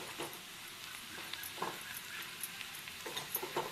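Spoon stirring boiled-potato aloo curry for samosa filling in a pan, heard as faint, irregular scraping and soft sizzling with a few small clinks.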